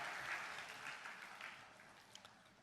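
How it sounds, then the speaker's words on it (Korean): Faint, distant applause from a large congregation at a Christian youth gathering's opening worship service, a steady wash of clapping that tapers slightly. "더 큰 박수 해주시기 바랍니다"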